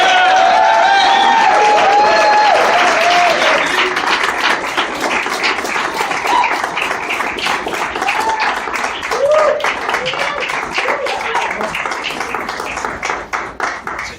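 An audience claps and cheers to welcome Derick Mitchell, a Lowell City Council candidate, at a campaign event; steady, loud applause fills the space, gradually thinning toward the end.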